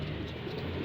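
Pigeons coo with a low, soft, throaty murmur, a brief close burst in a pigeon loft.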